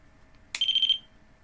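A REM pod ghost-hunting device gives a short burst of sharp, high, even electronic beeps, about six in quick succession, loud and close in an otherwise quiet room.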